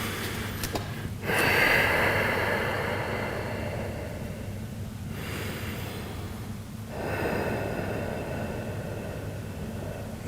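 Slow, deep breathing during a stretching exercise, with two long, loud rushing breaths, a brief sharp intake near the start and a steady airy background hiss.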